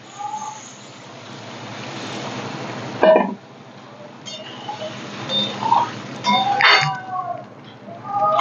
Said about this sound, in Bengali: এবার আমি এবার এর মধ্যে যে পেস্ট করেছিলাম সেই মিক্সির জলটাই আমি দিয়ে দিলাম